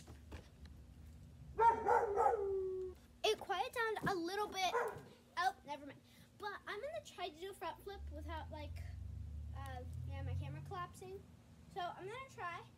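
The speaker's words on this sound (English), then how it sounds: "Ignore the dog barking," A dog barks repeatedly at home near a backyard trampoline, with sharp, fairly close yips and barks scattered among a young person's talking.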